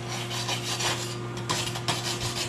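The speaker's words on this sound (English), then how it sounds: "let's try a little wire brush action" A wire brush scrubs slag off a 7018 arc weld bead, giving steady, close, rhythmic rasping strokes throughout, over a low electrical hum.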